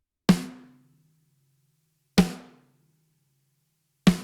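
Three separate hits on an unequalised snare drum in a heavy-music mix, each a sharp, loud crack with a short ringing decay, evenly spaced with silence between them.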